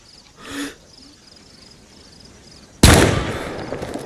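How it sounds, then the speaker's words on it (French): A single loud scoped-rifle shot in the game DayZ, a sudden close crack followed by a long decaying rumble, preceded by a faint brief sound and quiet ambience. "Dès qu'il bouge plus, je tire ma deuxième balle."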